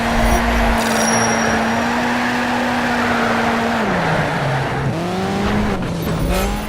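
Race car engine in the Need for Speed Shift driving game, a loud sustained engine whine that dips in pitch as it shifts and then climbs again, with tire squeal layered over it.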